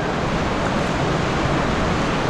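Ice-cold creek water rushes along the Kanarra Falls hike in Kanarraville, Utah, a loud, continuous broadband wash heard up close and alone, without talk.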